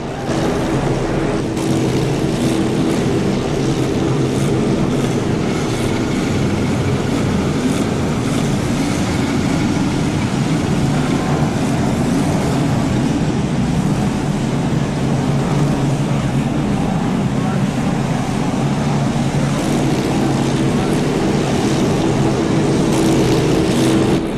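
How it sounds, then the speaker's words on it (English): Race car engines at the 1949 Indianapolis 500 fire up together into a continuous loud, dense roar that stays level and unbroken from start to finish, with no talking. "With all the drivers in their cars, they now await the command to start engines. The engines have started."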